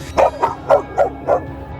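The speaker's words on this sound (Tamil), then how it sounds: "அந்த நாய் மறுபடியும் இவரை நோக்கி வேகமாக ஓடி வந்து பல்ல பயங்கரமா காட்டுதுங்க, ஆக்ரோஷமா குறைக்குது." A dog barks aggressively in five quick, evenly spaced yips and barks, close by and fairly loud, with no other sounds around.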